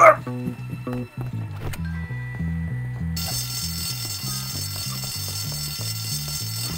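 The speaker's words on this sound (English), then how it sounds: "Fire alarm, fire alarm," An electronic fire alarm rings in the video game Bully Scholarship Edition, a repeating pulsing electronic tone over looping game music. It begins after a brief loud burst and keeps going without a break.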